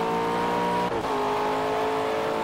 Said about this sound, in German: War das gerade ein Donner oder war das von meinem Motor? Eine Fehlzündung.